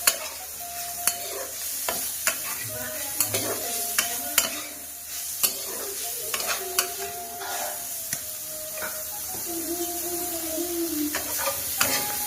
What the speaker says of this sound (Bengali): হালকা ভেজে নেবো পেঁয়াজগুলো